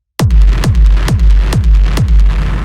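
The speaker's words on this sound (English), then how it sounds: "Next sound we have here is the kick, which sounds like this." A punchy raw industrial techno kick drum sample thumps six times in a steady, even beat, deep and loud with a short click on each hit, no voices.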